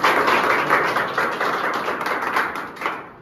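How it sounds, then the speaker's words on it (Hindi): A small group claps for a student at a salon academy certificate day in Taloda, Maharashtra: close, fairly loud clapping with distinct individual hand strikes, tapering off and stopping abruptly at the end. "बैठ जाओ भाई के लिए ताली बजा।"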